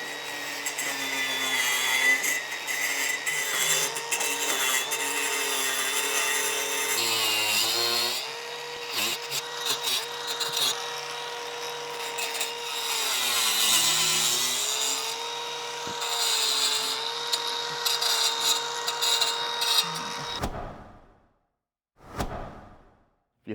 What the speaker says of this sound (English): I can come back with this diamond blade and basically just cut off the excess